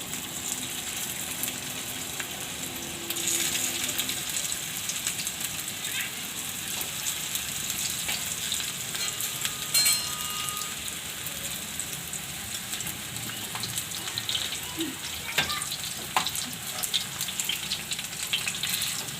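Palak (spinach) snack frying in hot oil, a continuous close hiss and sizzle with occasional crackles and spatter throughout.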